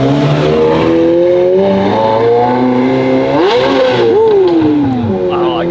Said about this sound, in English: LaFerrari headed out. Thing's so sick.